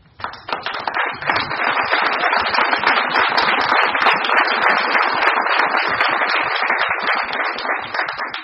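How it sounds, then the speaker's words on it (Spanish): An audience gives a round of applause for a general who fought terrorism in Huánuco, Peru, with loud, close, crisp clapping from a crowd building quickly and staying dense and sustained throughout. "que se le dé un voto de aplauso"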